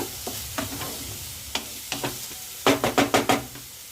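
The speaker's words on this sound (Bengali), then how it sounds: "এবার সব উপকরণগুলো বেশ কিছুটা ভেজে নিচ্ছি।" Chopped cabbage and carrot fry in a pan for veg momo soup, a soft sizzle under a series of sharp spatula knocks and scrapes that come close together and get louder toward the end.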